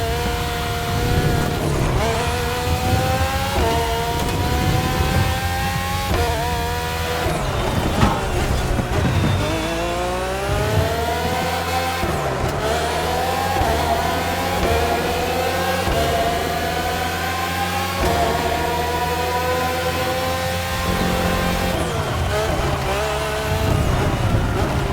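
Red Bull Formula 1 cars from the RB13 to RB20, with Renault and Honda engines, race in The Crew Motorfest, their engines revving loud and continuous with shifting pitch, gear changes and brief tire squeal throughout.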